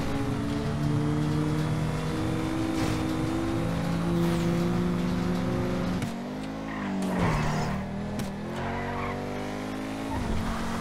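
A car driven in Grand Theft Auto V, with a sustained engine drone that rises and falls in pitch, tyres screeching through skids and hard turns, loud and continuous throughout.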